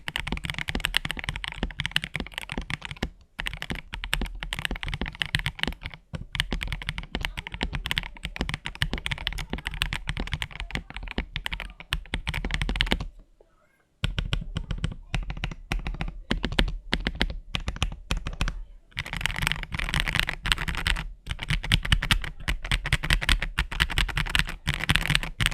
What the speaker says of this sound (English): So as you've heard, the sound profile of this keyboard is already good.